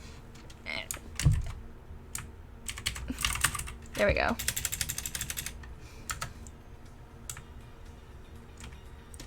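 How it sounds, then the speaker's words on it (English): Typing on a computer keyboard at night, with irregular clacking keystrokes that build into a dense, quick run of clicks midway, while someone talks briefly nearby. "My keyboard's all the way down here."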